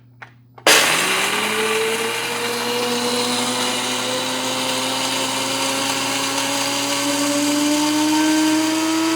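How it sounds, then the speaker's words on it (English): A Cuisinart 12 Cup Coffee Center Grind & Brew Plus coffee maker starts its built-in grinder on coffee beans with an abrupt switch-on, then a loud, steady, close whirring roar whose pitch slowly rises. "So now I'm going to turn it on, and it's going to start the grinder immediately."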